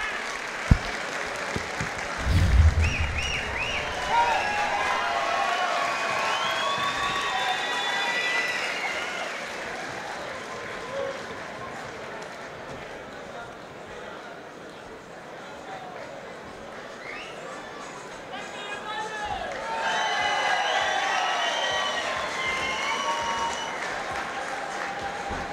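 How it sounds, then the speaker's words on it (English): A crowd at a Muay Thai fight featuring Saenchai cheers, whistles and applauds, a sustained roar that swells and dips with a couple of louder bursts, voices shouting over it. "And the crowd love him."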